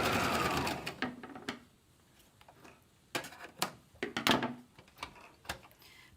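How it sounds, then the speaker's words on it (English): A sewing machine stitches a straight seam across a fabric face mask in quick rattling bursts, pausing and restarting several times, close and clear. "So I'm going to stitch this straight across, getting as close to that pipe cleaner as I can"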